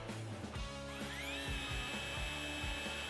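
A 40V 14-inch cordless string trimmer head spins up with a steady high electric motor whine and a rising tone, running continuously and close by with no talking.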